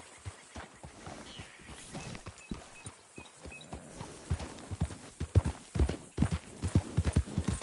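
A horse in Red Dead Redemption 2 clip-clops along, hooves striking at a walking pace, sparse at first and then growing louder and more rhythmic as it comes closer.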